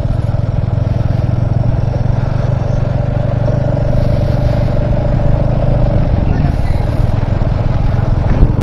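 A motorcycle ridden on an open road toward Agra, its engine a steady, loud drone with constant wind rush running throughout, no pauses or gear changes standing out.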